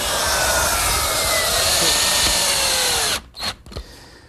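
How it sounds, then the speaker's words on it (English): A router fitted with a 1/4 inch roundover bit rounds the edges of wooden library-ladder parts, a loud steady high whine for about three seconds, then it cuts off, leaving a few brief spin-down bursts. "To round over the edges, I'm just using a portion of a 1/4 inch rounding over bit"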